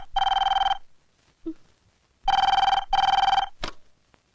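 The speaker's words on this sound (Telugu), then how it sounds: "వేళ పాడ లేకుండా ఈ వెదర్ ఫోన్ ఒకటి." A landline telephone rings loud and close in a quiet indoor room, giving one long electronic bell trill and then two more in quick succession, followed by a short sharp click.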